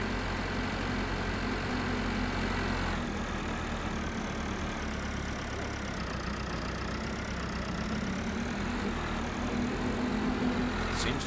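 A tractor engine in Farming Simulator drones steadily at a low, even idle-like pitch throughout, continuous and unchanging, with no voices.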